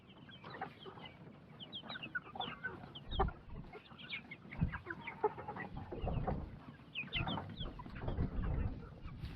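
A flock of Freedom Ranger chickens clucks on pasture on their first day out, with soft overlapping clucks and chirps scattered throughout at a moderate distance and no talking.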